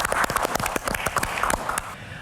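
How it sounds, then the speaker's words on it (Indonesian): An audience bursts into applause during a health talk show, with a flurry of quick, uneven claps close by that stop abruptly near the end. "Tepuk tangan"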